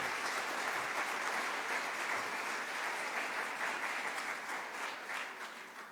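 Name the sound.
audience applause welcoming a speaker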